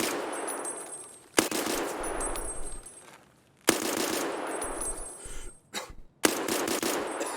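Escape From Tarkov SKS rifle shots: loud, sharp reports spaced a few seconds apart, each followed by a long echoing tail, with a short gap of quiet before the last shot.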